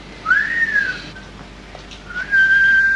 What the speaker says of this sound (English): Must be the whistle he swallowed 10 years ago